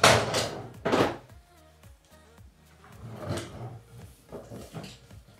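A wooden bedroom dresser drawer being slid open and shut in a family home, a couple of solid thunks followed by softer knocks and rattles, close by and with no voices.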